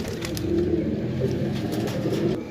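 Pigeons, including a blue bird, coo in soft rolling phrases close by while being shown for sale, the low throaty calls repeating and overlapping with no talk.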